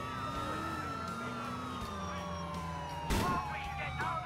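Police sirens in the GTA 4 video game wail steadily in the background, with sliding tones under engine noise and a sharp crash-like burst near the end.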